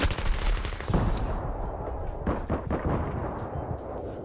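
A grenade blast and rapid gunfire in Battlefield 3 sound close and loud, with dense bursts of shots followed by a booming explosion and further firing.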